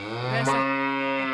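A voice imitates a buffalo mooing, one long, loud, deep, sustained bellow with rich harmonics, close and alone.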